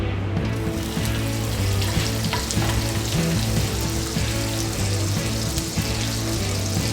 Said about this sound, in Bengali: কড়াইতে 1 টেবিলস্পুন বাটার অ্যাড করছি।